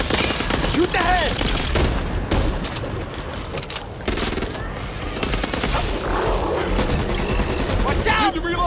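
Rapid bursts of gunfire from the video game Back 4 Blood, dense and loud, stacking into near-continuous volleys with brief gaps, while voices call out over the shooting.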